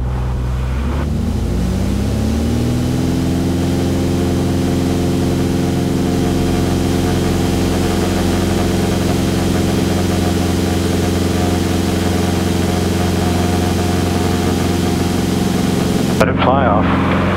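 Piston engine of a Beechcraft Bonanza revving up to full power for a takeoff roll, a loud steady drone with rising harmonics that holds throughout, briefly cut at the end.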